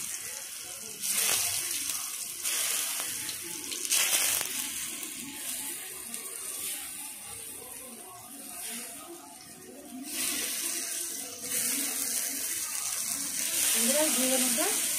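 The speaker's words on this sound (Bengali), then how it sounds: "এবার আমি ভেজে নিই" Salted ridge gourd pieces frying in hot white oil give a loud, continuous sizzle that swells and eases in waves, heard close up with a person talking intermittently over it.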